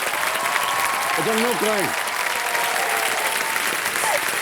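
A studio audience on a quiz show applauds for a contestant named Ravi, with steady clapping throughout and a voice speaking briefly over it.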